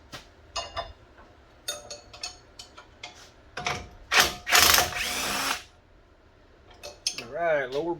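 A hand ratchet works on the lower strut bolts of a third-generation Toyota 4Runner, giving quiet bursts of rapid clicking, then a few louder metallic clanks and scrapes close by, with a short voice near the end.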